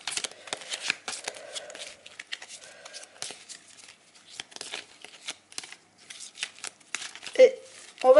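A deck of tarot cards is shuffled by hand in bursts of riffling and flicking, close and crisp, with pauses between bursts and a voice speaking at times.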